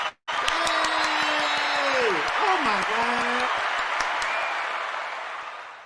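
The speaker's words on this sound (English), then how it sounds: "The producer, get some hand claps." Burst of hand claps and cheering dropped in by a producer during a live talk show, a steady dense clatter lasting several seconds under an excited shout and voices, fading slightly at the end.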